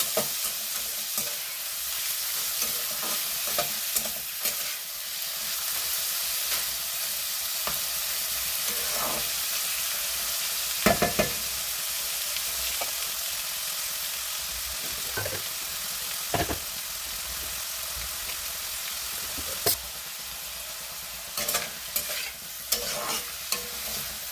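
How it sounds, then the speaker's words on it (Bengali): Steady crackling sizzle of onions frying in a pan, continuous throughout, with occasional scraping stirs and spatula knocks, no voices. "পেঁয়াজগুলোকে ভাজবো ভালো করে।"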